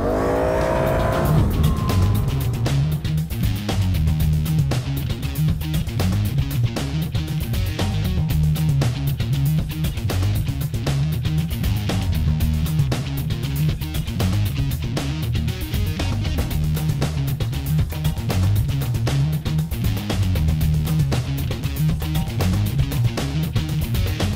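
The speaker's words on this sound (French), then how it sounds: "avec le 1000cc, ça en fait vraiment un bolide qui va être très habile dans les sentiers" A 1000cc sport all-terrain vehicle races along trails, its engine droning loud and close with steady revving and rhythmic surges of throttle throughout, and no talk over it.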